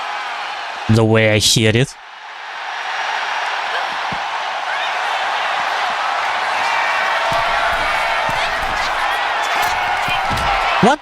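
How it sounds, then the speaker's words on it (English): A large crowd in the video game WWE 2K26 roars and boos steadily for several seconds, a loud sustained wash of voices after a brief burst of speech at the start. "Everyone's booing her."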